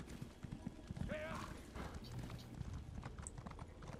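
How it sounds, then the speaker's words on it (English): Horse hooves clip-clop at a slow, steady pace in The Elder Scrolls Online, a quiet rhythmic clatter with brief game sound effects, while players talk over it. "Get on my slow ass horse."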